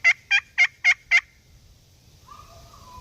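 A wild turkey gobbles five times in a quick, evenly spaced burst, loud and fairly near, answering hen calls, then falls quiet over soft outdoor background noise.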